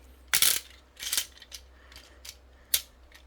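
Plastic parts of a Tobot transforming toy robot (Dok Sen Boom) click and snap together, several sharp close clicks spread unevenly, loudest near the start and one crisp snap near the end.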